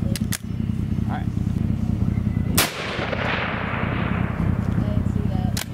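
Long-range shooting of an old WWII Mosin Nagant rifle in 7.62x54R: a loud sharp gunshot with a booming, decaying echo rolling out, preceded by a couple of faint clicks and handling noises, with wind-like background rumble.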